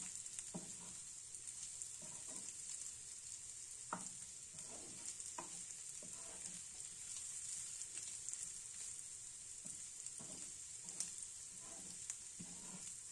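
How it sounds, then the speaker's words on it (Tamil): Spicy prawns roasting in oil in a pan, a soft continuous sizzle with a bright hiss, broken by regular scraping stirs of a spoon, fairly faint and with no voices. "நல்லா அந்த ஆயிலில் இந்த மாதிரி ரோஸ்ட் பண்ணி விட்டுட்டே இருங்க."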